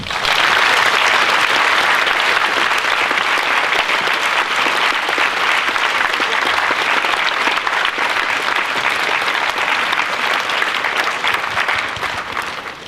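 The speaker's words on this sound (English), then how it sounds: "Can we give everyone a huge round of applause?" An audience at a school Year 6 celebration gives a loud, sustained round of applause, dense and even throughout before tapering slightly at the close.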